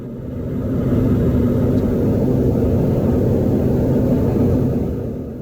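Steady engine drone of a light aircraft in flight, a continuous low rumble that swells in and fades slightly at the end, with no voices.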